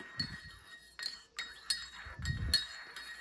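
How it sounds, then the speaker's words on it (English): Metal spoon stirring coffee in a glass, giving several distinct light clinks against the glass spaced irregularly, close and fairly quiet with a soft liquid swirl between them. "So I'll just stir it."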